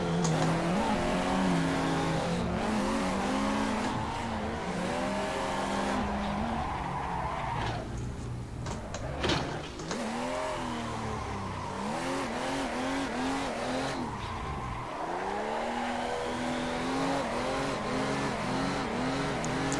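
Toyota Chaser drifting in the Assetto Corsa racing sim: a loud, continuous engine note rises and falls through repeated revs and gear changes, with tyre squeal and skidding throughout and brief dips around the middle.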